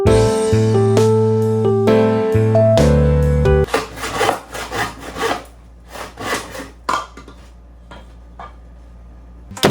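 Wood being hand-sawn for a ninja warrior obstacle, loud rasping strokes in an irregular rhythm after an opening stretch of music, close and with no talk.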